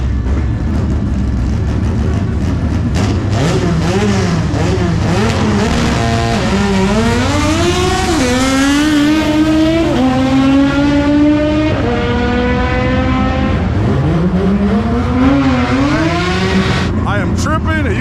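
An old-school 5.0 Mustang races at Irwindale Speedway, its engine loud and close, revving up and down through rising and falling pitch sweeps with gear changes, while people talk over it.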